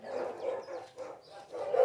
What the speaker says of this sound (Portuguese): tem que sair todo o cachorro latindo